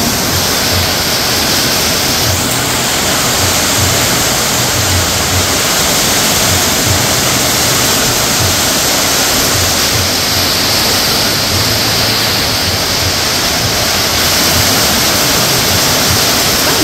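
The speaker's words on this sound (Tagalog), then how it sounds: "Lakas po ng ulan." Rain pours down in a dense, unbroken roar, loud and constant throughout with no pauses.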